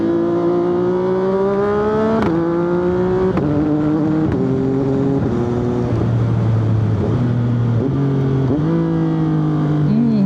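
A 675SR motorcycle with a single exhaust and a quickshifter accelerates hard and close by. Its loud engine note climbs in pitch again and again, and each gear change cuts it off sharply before the next rise.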